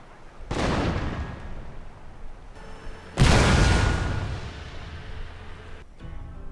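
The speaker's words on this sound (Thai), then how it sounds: "ทุกครั้งที่ปืนใหญ่ยิงออกมานั้น รู้สึกดีเป็นบ้าเลย" Two heavy cannon blasts from Total War: Shogun 2 boom close by a few seconds apart, each a sharp roaring burst fading into a long rumbling tail.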